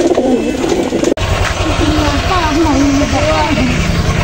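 Racing pigeons in training coo in low, repeated warbling calls throughout, over a steady background hum and some mixed noise.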